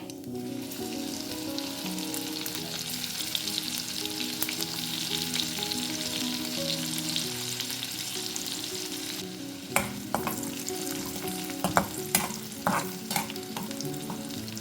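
Crushed garlic sizzling in hot oil in a pan while making a methi dal, a steady bright frying hiss throughout, joined later by several sharp clinks and scrapes of a spoon, no voices.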